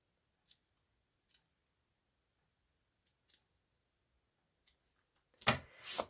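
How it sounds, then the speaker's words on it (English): Scissors cut a strip of pretty lace in half at close range: a few quiet, isolated snips spaced apart, then one louder, longer crunching cut at the end. "So I'm going to just use this pretty lace and cut it"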